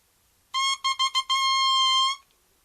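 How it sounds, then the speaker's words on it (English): A bare oboe reed blown on its own gives a loud, buzzy, duck-like squawk: one short honk, a quick run of stuttered bursts, then a long sustained reedy tone that cuts off. "On its own, an oboe reed makes a pretty funny noise."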